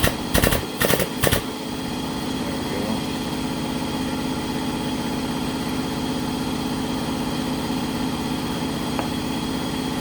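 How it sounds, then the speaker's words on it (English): A shop air compressor runs in a workshop: a few sharp clacks at the start give way to a steady, loud mechanical drone with a constant hum that fills the rest of the clip, with no talking. "Of course, my compressor kicks on."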